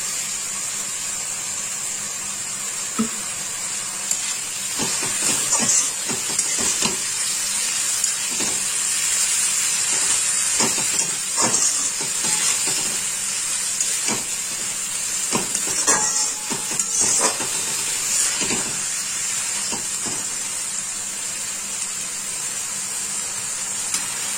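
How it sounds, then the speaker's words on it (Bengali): Ghee sizzling loudly in a pan with mocha chanakanna (banana flower) being cooked down, a dense continuous hiss broken by repeated scraping bursts from stirring. "এর মধ্যে আমি এবারে একটু দিয়ে দেবো ঘি"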